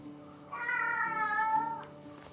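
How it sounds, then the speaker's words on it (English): A house cat lets out one long, drawn-out, strained meow up close, loud and wavering, with quiet room sound before and after. "Hold on, I'm gonna let the cat out."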